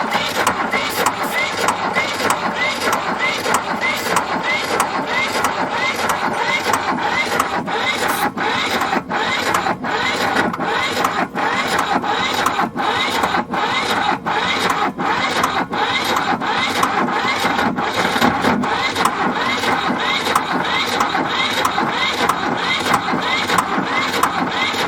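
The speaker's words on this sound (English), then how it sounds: "let's give this starter a break here" The diesel engine of a 4x4 man-lift cranks on its starter for a long stretch, making a loud, steady, rhythmic churning that never catches.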